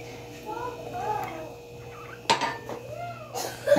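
Dishes and cutlery clink in a home kitchen in a few scattered bursts, faint and near, with a person talking quietly around them.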